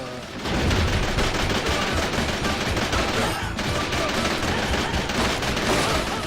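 Dense, continuous gunfire from the run-and-gun game Wolf of the Battlefield: Commando 3, a loud unbroken clatter of rapid shots and explosions layered over a game soundtrack throughout.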